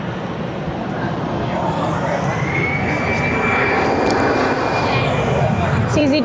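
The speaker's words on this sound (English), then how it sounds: "jet just going off to Naples" An EasyJet jet airliner taking off from Barcelona roars steadily and loudly from start to end as a broad engine rumble, with voices faintly mixed in beneath it.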